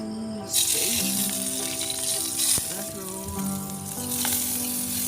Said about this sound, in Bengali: এগুলোকে ভালোভাবে নাড়িয়ে চাড়িয়ে ভেজে নিব